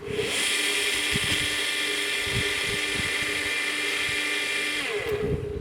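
A repaired Vodoley BTsPE 0.5-50U water pump motor runs with a steady, loud high-pitched whine, a continuous electric hum that holds for several seconds before winding down near the end.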